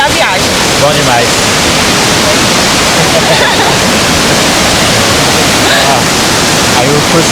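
Steady broadband rush of a waterfall pouring into a stream among lakes in scenic China, water flowing continuously and loudly, close and uninterrupted throughout with no talk over it.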